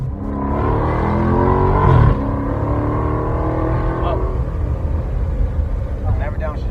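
Dodge Charger Scat Pack engine revving hard under acceleration, with a sharp upshift break around the two-second mark before the loud exhaust drone pulls on steadily, close up from inside the car.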